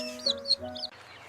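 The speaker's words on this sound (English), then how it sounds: "A duck is a swimming bird with webbed feet and waterproof feathers that says quack quack" A farm duck quacks three times in quick succession, close and fairly clear, with a short quiet pause after.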